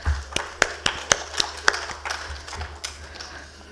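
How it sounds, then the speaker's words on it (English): A small audience at a conference on metals and minerals claps for a panel, sparse distinct hand claps spaced unevenly across a quiet hall, thinning out toward the end. "Ladies and gentlemen, please welcome our distinguished panel with a round of applause."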